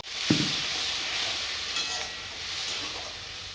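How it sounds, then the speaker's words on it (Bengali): Water poured into a pan of spice paste fried with ground coriander, cumin and chopped tomato, bursting into a loud sizzle that settles into a steady hiss. "ধনে গুঁড়ো দিয়ে দিব জিরা গুঁড়ো দিয়ে দিব ভালো করে কষিয়ে এবারে একটু জল দেব"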